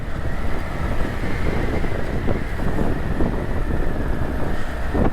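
Strong wind sweeps through a high mountain valley along the Karakoram Highway in Hunza Nagar, a steady, loud, broadband rush with gusting texture that fills the whole stretch, with no voices.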